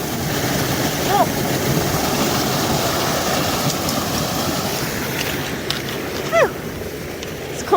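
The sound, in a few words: water flowing down a small waterfall on a hiking trail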